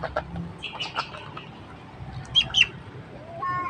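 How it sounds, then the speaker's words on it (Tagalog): Big ducks calling in a small backyard menagerie, a few short squawks and honks near and fairly loud over a busy outdoor background, with a clustered pair of calls toward the end. "Itong mga kuwan, mga big ducks talaga itong malalaki."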